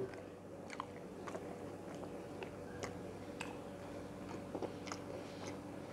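Close, steady chewing and biting of spicy minced meat with olives, with soft repeated crunches and wet mouth sounds, alone without talk.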